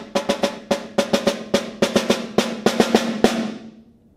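Snare drum plays the base rhythm of an eighth-grade all-state etude, without drags or accents: crisp, even strokes in quick groups with short gaps, close and dry, ending with a brief ring as the last hit fades.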